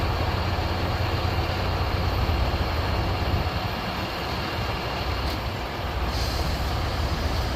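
Heavy tow truck engine droning loudly and steadily, with a mechanical whine and hiss as its forks lift a truck off blocks; no voices.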